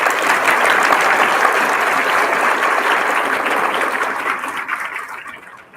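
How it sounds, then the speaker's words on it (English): Audience at an eighth grade graduation applauding the student speakers, a loud sustained wash of many clapping hands that holds steady for several seconds before gradually tapering off. "Let's give another round of applause for our student speakers."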